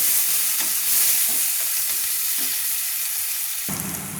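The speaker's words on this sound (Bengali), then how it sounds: "পেঁয়াজটা লাল লাল করে ভেজে নেব" Chopped onions fry in a pan with a steady, close sizzle and crackle throughout, stirred now and then, and the tone changes near the end.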